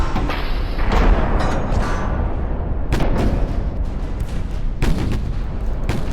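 Battleship big guns fire in the naval game Ultimate Admiral: Dreadnoughts, with several loud, heavy booms spaced over a continuous rumbling din of battle.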